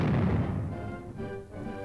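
Army cannon fire, a deep booming blast with a rolling low rumble that decays over a couple of seconds, heard alone.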